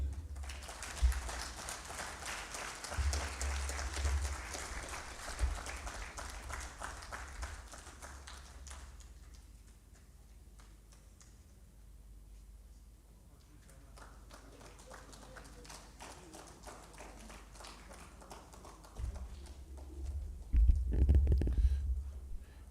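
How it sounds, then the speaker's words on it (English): An audience at an annual lecture and symposium applauds a keynote speaker: a dense wash of clapping for the first several seconds that thins and fades into a quieter stretch, then a voice and a louder burst near the end. "Please, another round of applause for our keynote speaker."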